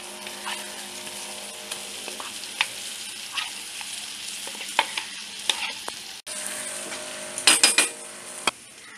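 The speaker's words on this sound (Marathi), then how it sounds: "वांगी भरून राहिलेला मसाला जो आहे तो आता आपल्याला फोडणीला द्यायचा आहे।" Leftover stuffed-brinjal masala frying in tempering oil with coriander, a steady sizzle broken by repeated metallic clinks and scrapes of a spoon stirring in the pan.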